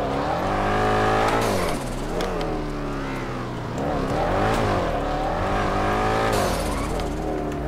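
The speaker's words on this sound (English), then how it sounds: "I hear this damn thing. This damn turbo going crazy." Turbocharged Hennessey four-door car engine revving loudly and continuously up close, rising and falling in pitch through repeated throttle blips with tire-like squeal at the edges.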